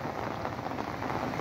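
Rain falls steadily during a thunderstorm with lightning, a close, constant rushing patter that stays level throughout, with no speech.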